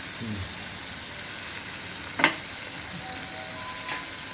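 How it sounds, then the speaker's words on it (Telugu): Tomatoes fry in a pan for peanut chutney, a steady soft sizzle throughout with a couple of brief stirring clinks, fairly close and alone. "రెడీగా టమాటా కూడా వేగింది"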